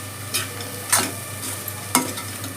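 Carrot egg bhurji stirred on high flame, with a steady close sizzle broken by three distinct scraping strokes of the spatula across the pan.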